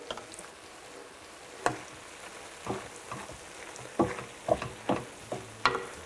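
Vegetables with red pepper flakes are stirred in a pan, giving a soft background sizzle broken by a string of sharp scraping and clacking strokes at an uneven pace.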